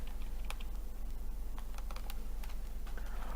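Light clicking keystrokes on a computer keyboard come in a quick irregular patter, soft and close over a low steady hum, with no speech.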